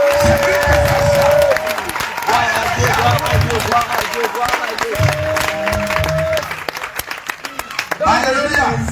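A church congregation applauds and cheers in praise of Jesus, with loud, dense clapping and crowd noise running throughout, while sustained tones and voices carry on over it.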